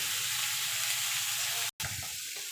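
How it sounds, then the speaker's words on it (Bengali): Pumpkin and bitter gourd frying under a lid in a pan over lowered gas, a loud continuous close sizzle with a momentary cut near the end, then lower crackling. "এবার ঢাকা দিয়ে এটাকে আমি ভাজা ভাজা করে নেব যতক্ষণ কুমড়োটা সিদ্ধ না হচ্ছে"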